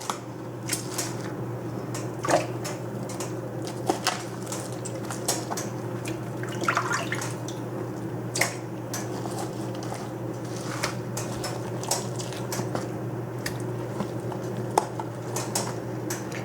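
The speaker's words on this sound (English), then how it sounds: "I'm going to put each one of these into the sink of cold water" Water sloshing and dripping in a sink of cold water as bone-in chicken breasts and thighs are washed, with intermittent clinks and knocks as pieces are handled, over a low steady hum.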